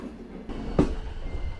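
An animated Metropolitan Railway train with painted carriages rumbles along the rails toward Victoria Terminus, a steady low mechanical noise with one sharp clank partway through.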